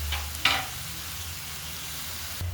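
Chopped tomatoes soften in a pan over low gas, giving a steady, even sizzling hiss throughout. A brief louder stir or scrape comes near the start and another at the very end. No voices.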